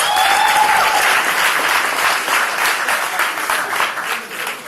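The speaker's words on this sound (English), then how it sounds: "Let's give him another round of applause." Dense, loud crowd applause fills the room continuously from start to finish, a steady wash of many hands clapping with slight swells and no talk above it.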